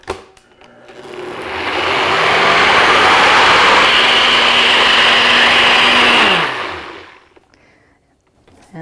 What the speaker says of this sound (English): then we place our cup on top of our blender